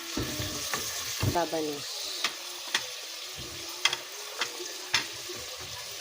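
Pork sinigang being stirred in a claypot at home, with scattered scraping clinks of the spoon against the pot and a soft steady simmering hiss underneath, close and fairly quiet.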